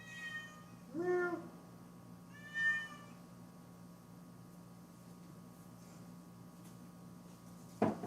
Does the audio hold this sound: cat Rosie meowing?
yes